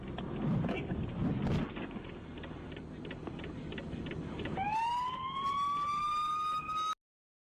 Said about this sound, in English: that's a loud siren there